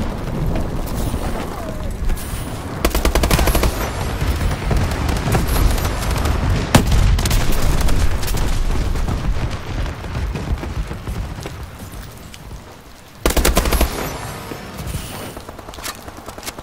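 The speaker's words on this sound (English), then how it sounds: "Friendly bombing run incoming." A friendly bombing run with gunfire rages in the multiplayer shooter Call of Duty: Advanced Warfare, with loud, dense booms, explosions and gun bursts running continuously throughout, surging in heavy blasts near the start and again late on.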